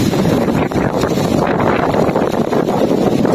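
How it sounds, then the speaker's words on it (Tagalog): Strong wind roars across an open field where a Chicago Bulls-patterned kite is being flown, a loud, constant gusty rush buffeting the microphone with no pause. "Malabag yung hangin"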